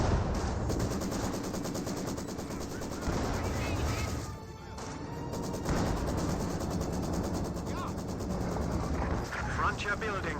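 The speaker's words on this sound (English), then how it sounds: "The MG bunker is receiving still a lot of fire." Dense, continuous gunfire and explosions from a Company of Heroes 2 battle, with machine-gun bursts hammering an MG bunker. The barrage stays loud and crowded, with a brief lull partway through, and a voice talks over it.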